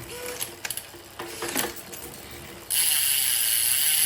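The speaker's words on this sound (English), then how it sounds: "Let's go ahead and shift it back and forth a couple times and see what happens." A SRAM AXS electronic derailleur on a bicycle held in a stand shifts up and down. Short clustered clicks come first, then a steady loud whirring hiss of the spinning drivetrain.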